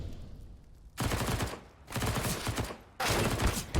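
MP9 submachine gun fire in Counter-Strike: Global Offensive during a competitive match, three rapid sprays of shots separated by brief pauses, sharp and close.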